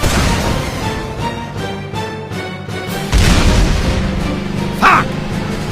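A loud explosion goes off in a video game during a Soldier versus BLU Spy match, a dull boom rising out of steady game noise about midway and rumbling on afterward.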